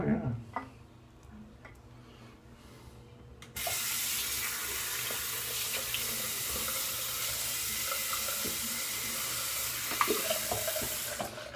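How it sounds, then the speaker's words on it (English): Water runs steadily from a tap, starting abruptly after a few seconds of quiet room noise and continuing as a loud, even hiss with faint clinks and voices in the background. "Add it just a touch of water."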